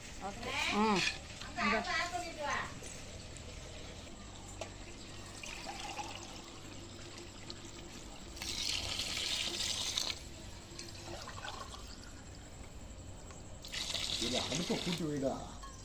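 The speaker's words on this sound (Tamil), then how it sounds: "இப்போ கூட்டிடுவோம். தண்ணி ஊற்றுறாங்க." Water pours and splashes into a cooking pot for chicken biryani in a couple of bursts, with people chatting and children's voices in the background.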